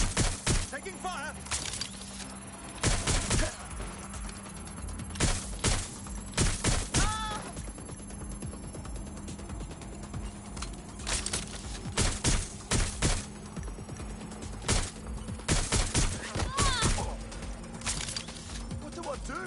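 Gunfire in the video game Watch Dogs: Legion, scattered bursts and single shots crackling through a busy game soundscape, with steady background hum and talk underneath.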